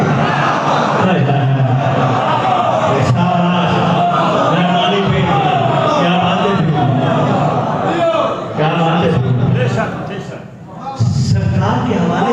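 A crowd at a majlis in the Qasr-e-Abi Talib imambargah in Lahore chants a religious slogan, loud massed voices rising in repeated call-and-response waves that continue almost without a break.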